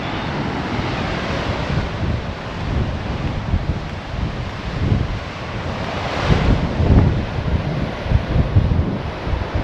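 Rough ocean surf churns continuously near a coastal campsite, waves crashing under heavy buffeting wind that roars across the microphone, loud and close with surges swelling toward the end, no talking.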